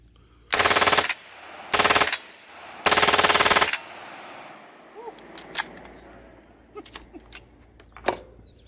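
A gun in fun mode fires three rapid automatic bursts, loud and close, the last one longest, followed by quieter clicks and handling noises.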